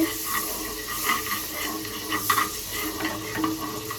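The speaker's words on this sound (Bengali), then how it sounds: "জাস্ট বাটারে একটুখানি ফ্রাই করে নেব" Kebabs fry in butter in a hot pan with a close, busy sizzle, broken by irregular stirring scrapes and light clatter. No one speaks.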